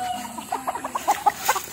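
Several chickens clucking close by, a quick run of short rhythmic clucks rising in pitch and loudness, over a faint background hum.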